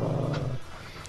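A dog growls low and steady for about half a second, close and fairly loud, before it fades into quieter rustling noise.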